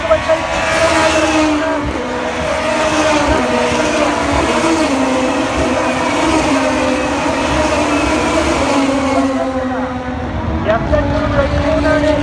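Super GT race cars, including a Subaru BRZ in the GT300 class, start the race at Motegi in a loud, sustained engine roar with rising and falling pitches, while a commentator talks over it.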